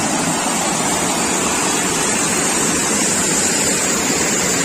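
River water rushes in a steady, dense hiss near Tapalwadi Waterfall outside Neral, close and continuous with no voices.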